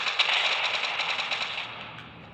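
Rapid automatic gunfire from the Fortnite video game rattles in a continuous burst that slowly thins toward the end, loud and steady with no talk over it.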